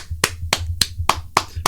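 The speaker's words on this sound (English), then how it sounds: "Round of applause." A single pair of hands claps six times in a slow, even rhythm, each clap sharp, close and isolated against near silence.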